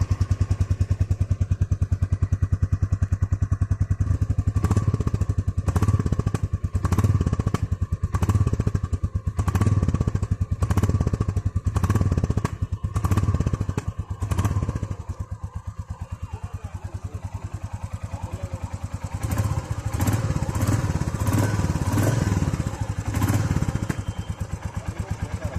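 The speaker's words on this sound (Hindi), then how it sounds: "पहले सुन लेते हैं नई वाली क्लासिक की आवाज़।" A new-generation Royal Enfield Classic 350 single-cylinder motorcycle engine thumps steadily up close, with repeated throttle blips rising and falling over a continuous low idle.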